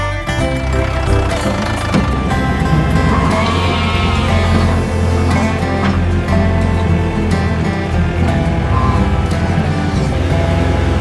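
A sheep bleats after being lifted out of a canal by an excavator, its calls rising over a loud, steady machine engine rumble.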